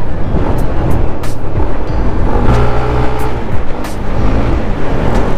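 A KYMCO scooter engine revs loud and close, a continuous aggressive roar with rising and falling pitch as the throttle opens and eases, with no talk over it.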